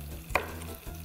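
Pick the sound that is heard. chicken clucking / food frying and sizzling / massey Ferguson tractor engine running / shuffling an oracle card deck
food frying and sizzling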